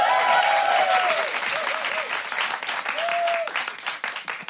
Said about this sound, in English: Big round of applause for Tatiana.